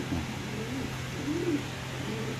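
A male Afsan grizzle pigeon in a cage coos softly in low, rolling phrases, three or four short coos over a constant background hum, close but quiet.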